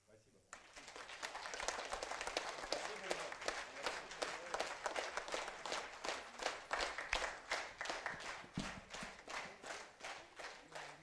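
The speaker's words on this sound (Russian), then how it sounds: "Мы высоко ценим ваши аплодисменты." Concert audience applauding at a celebration of Tuva's centenary of union with Russia, dense sustained clapping from a large crowd, loud and continuous with slight rhythmic swells throughout.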